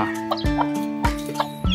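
Brahma chickens cluck in short, close bursts, a few soft clucks scattered over a couple of seconds.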